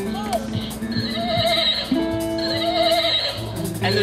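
A human voice imitates a horse neighing, with wavering whinny-like cries rising and falling several times in a row, close and fairly loud, as part of a spoken performance.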